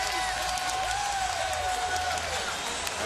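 A large baseball crowd at a Houston Astros home game against the Rangers roars and cheers steadily, a broad wash of noise with a commentator talking over it.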